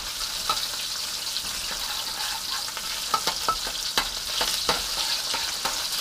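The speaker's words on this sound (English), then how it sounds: "Stir fry, not stare fry." Kung Pao stir-fried over high heat in a hot wok: a constant close sizzle broken by quick scraping clicks and knocks from the stirring utensil, with no voices.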